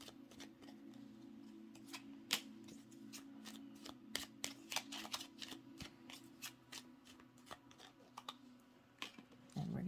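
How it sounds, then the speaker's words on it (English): Tarot cards shuffled and pulled during a pick-a-card reading: a steady run of crisp, close riffling and snapping flicks, some sharper slaps, over a low steady hum, with a louder rustle at the end. "Let's pull some more cards."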